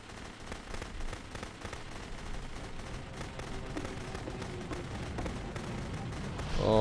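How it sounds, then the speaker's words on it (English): Rapid gunfire from the video game The Beginner's Guide, a dense run of sharp cracking shots at steady loudness that swells louder right at the end. "Remember, you can click to fire the gun."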